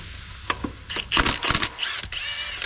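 Ratchet loosening 10 mm thermostat bolts on a 2000-2006 Chevy Tahoe, close mechanical clicks and scrapes in short irregular bursts.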